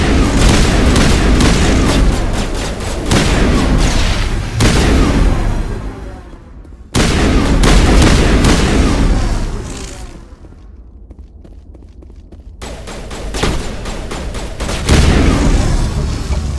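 Sustained gunfire and booming blasts from a firefight in the Mass Effect Legendary Edition video game, loud and dense, with two brief lulls before the shooting resumes.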